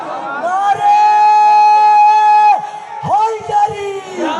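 A crowd answers with a long, loud, sustained shouted religious slogan at a celebration for Imam Hussain, a single drawn-out chorus of voices followed by a shorter second call.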